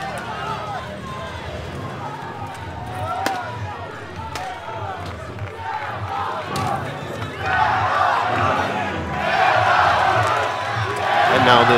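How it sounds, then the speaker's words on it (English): Belarus fans cheering in the stands at a 5-vs-5 medieval combat tournament in Trogir, Croatia: crowd noise that builds into a loud roar near the end, with metal clangs and thuds from the fight and a commentator talking over it. "Belarus cheering for the Belarus team. The entire stand is going at it now."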